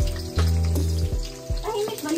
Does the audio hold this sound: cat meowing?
no